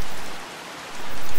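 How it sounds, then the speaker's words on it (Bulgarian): Rain starting to fall again sounds as a loud, close, dense hiss of drops that dips briefly in the middle before swelling back to full strength. "дъждът започва отново"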